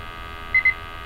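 A gas detector alarm gives two short, sharp electronic beeps in quick succession over a faint steady background hum.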